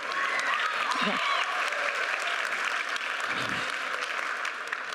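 Middle school band concert audience applauding an eighth-grade flute soloist, a steady, dense wash of clapping from a full hall sustained throughout.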